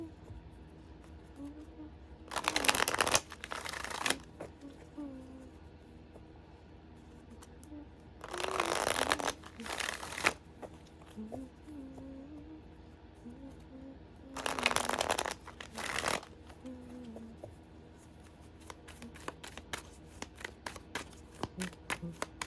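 Tarot cards being shuffled in three separate bursts of riffling and flicking, each a couple of seconds long and spaced several seconds apart, close and fairly loud with quieter handling and small rustles between.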